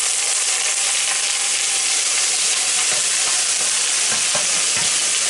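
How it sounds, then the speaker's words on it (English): Frozen green peas are stirred into a pasta sauce cooking in a hot pan for a creamy chicken vegetable pasta, with a loud, continuous sizzle and hiss and the scrape of the spoon close by. "Now these are just frozen peas, a cup of green peas. Stir it up, let it start cooking a little bit."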